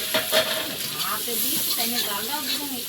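Chopped onion and panch phoron fry in hot oil with a close, continuous sizzle and crackle, while stirring scrapes through it and a voice talks faintly over the top.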